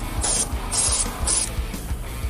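Grex 8-horsepower air compressor feeding a spray line, three strong bursts of high airy hiss in a studio over a steady low mechanical thrum that pulses at a regular beat throughout.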